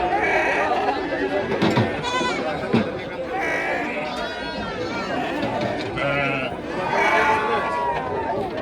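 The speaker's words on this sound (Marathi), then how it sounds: "मेंढ्या पाहू शकाल मित्रांनो, मेंढ्यांची आवक सुद्धा आज भरपूर मोठ्या प्रमाणावर झालेली" Sheep bleat repeatedly at a large, busy livestock market in Maharashtra that also trades goats and chickens; several loud, close calls rise over constant crowd chatter, and someone talks throughout.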